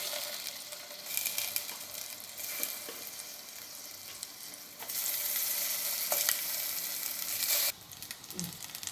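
Paneer cubes and ginger fry gently in melted butter, a steady sizzle that swells louder in the second half, with occasional light spatula scrapes and no voices.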